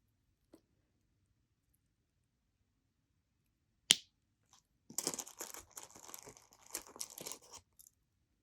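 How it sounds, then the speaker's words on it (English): Flush cutters snip excess jewelry wire with one sharp close click, followed by a stretch of soft crinkly handling noises, all fairly faint in a quiet room. "then we're going to come in with our flush cutters,"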